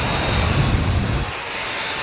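A Kica Jet Fan Max blower runs on turbo with a loud, steady high-pitched jet-like whoosh and a thin whine, dipping slightly near the end before holding again, close and without talk.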